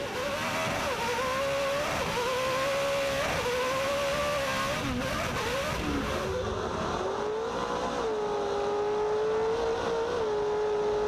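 An off-road Toyota Pro 4 race truck holds full throttle through jumps at a short-course race at Crandon, its loud engine droning continuously and shifting pitch over several rises and dips, with no talk over it.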